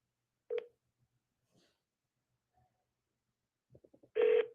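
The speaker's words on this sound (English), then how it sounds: "let's call the service number" A phone dials a car dealership's service number: a few faint scattered beeps, then a quick run of short tones and one longer loud tone at the end, with no talking.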